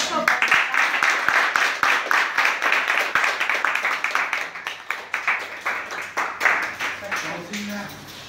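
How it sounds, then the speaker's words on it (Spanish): Small group applause at a civil wedding ceremony, a close rapid clapping that runs for several seconds and slowly thins out, with voices talking underneath. "Un aplauso."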